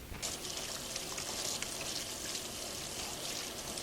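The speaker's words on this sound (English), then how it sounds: "I'm going to go wash my hands really quick" Tap water runs steadily for hand washing in a home kitchen, a faint continuous splashing stream with no voices.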